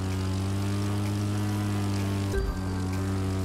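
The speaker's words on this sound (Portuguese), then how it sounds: "o avião decola muito rápido. Tudo bem que é um avião leve" Steady droning propeller engine of a light airplane in the racing game The Crew 2, loud and continuous with a brief thump and pitch shift midway, no voices.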